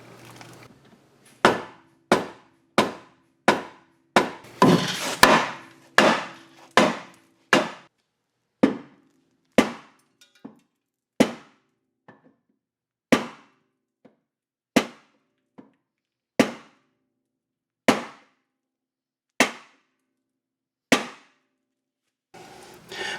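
Repeated hammer blows on the front subframe of a BMW E32 735iL, about twenty sharp metallic strikes, rapid at first then slowing to spaced single hits, close and loud with no talking.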